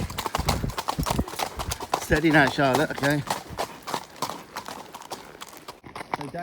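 Horse hooves clip-clop along a Western trail, a steady close rhythm of footfalls heard under a rider's talking voice.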